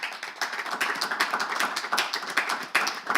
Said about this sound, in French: L'ovation, s'il vous plaît.